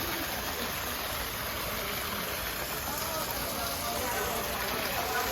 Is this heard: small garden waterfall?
yes